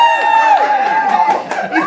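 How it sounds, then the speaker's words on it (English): Audience at a stand-up comedy show in London cheering and calling out together, a dense sustained burst of crowd voices with some laughter. "Give me a cheer if you know who Monty Don is"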